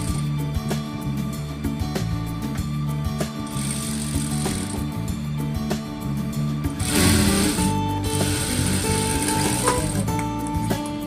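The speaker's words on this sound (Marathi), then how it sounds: "तर आपण अशा प्रकारे दाब शिलाई देऊन घेतली." A sewing machine top-stitches organza fabric in a steady, continuous whirring run. The motor hum is loud and close and lasts the whole stretch, with a brief surge in speed near the end.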